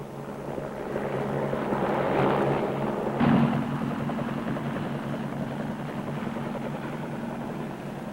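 A Marine Corps squadron helicopter with a steady droning engine and rotor rumble, a low hum holding throughout, swelling briefly midway before settling back to a constant mid-distance roar.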